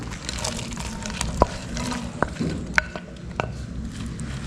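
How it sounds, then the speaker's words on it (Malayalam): Fried chicken pieces being stirred into a thick orange sauce in a pan with the flame off, giving soft wet scraping and a few sharp clinks of a utensil against the pan, close and moderately quiet. "ഇനി നന്നായിട്ടൊന്ന് മിക്സ് ചെയ്ത് കൊടുക്കണം."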